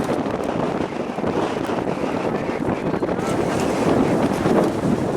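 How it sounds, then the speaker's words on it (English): Strong wind roars steadily across a microphone on a boat heading straight into the wind during rough fall musky fishing, a constant buffeting rush that drowns out almost everything else. "So we're headed right into the wind right now."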